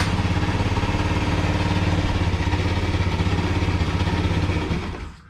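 A Sento Kymco 50cc scooter engine idles close by with a fast, even, buzzing putter, then sputters and dies away in the final moment.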